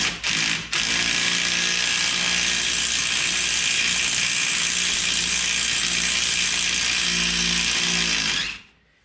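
A ratchet tool spins a bolt out of a Chevy 10 bolt rear axle, making a loud, continuous buzzing whir close up, briefly interrupted near the start, then running steadily before cutting off at the end.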